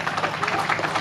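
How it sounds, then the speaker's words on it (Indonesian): A crowd claps for a village performance at an Indonesian cultural show in Pekalongan, giving a brief burst of steady, fairly loud applause. "Tepuk tangan untuk Desa Api-Api."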